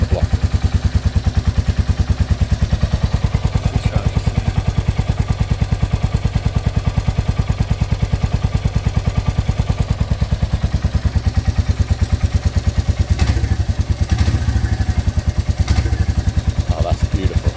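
A Royal Enfield Meteor 350 bobber motorcycle's single-cylinder engine idling loud and close, a steady rapid thumping beat throughout with a brief surge partway through.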